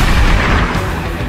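Artillery shells boom and explode in a dense, loud, continuous barrage of rumbling blasts with no talking, in an animated trailer.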